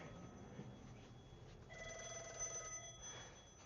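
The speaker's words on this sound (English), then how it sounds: "That phone's ringing." A telephone on an Avaya IP Office phone system rings faintly in the distance, a trilling electronic bell heard once or twice over quiet room noise.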